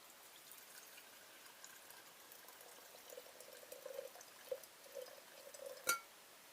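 Water pours softly into a cup while refilling an Enhancer TNB CO2 system, a faint steady trickle with a few light drips and a brief louder splash near the end.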